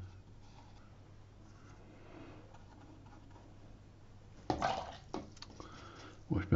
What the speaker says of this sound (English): Wash my brush out.